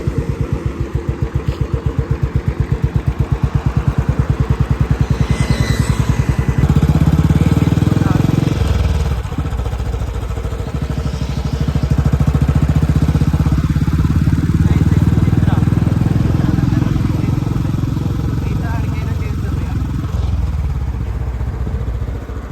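A motorcycle engine runs steadily up close while being ridden into a parking area at a cinema, its loud low rumble dipping and then swelling again before it settles, with some background clatter.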